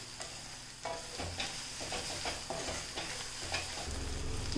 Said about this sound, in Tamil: இப்போது நம்ம வெங்காயம் நல்லா வதங்கி வந்துட்டுருக்கு.